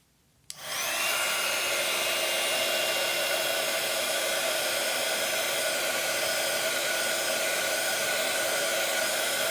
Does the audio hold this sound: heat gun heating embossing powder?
yes